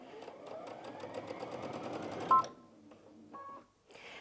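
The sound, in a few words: Brother Innov-is VQ2 sewing machine stitching fabric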